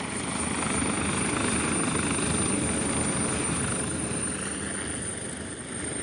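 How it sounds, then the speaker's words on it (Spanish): An Armed Forces cargo helicopter ferrying food rations gives a loud, steady rotor and engine drone that holds level throughout and eases slightly at the end, with no voices. "con helicópteros de carga de Fuerzas Armadas"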